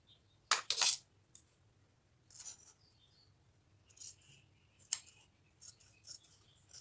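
Close, crisp snips of scissors cutting blouse sleeve fabric, several separate cuts with pauses between, quiet background otherwise.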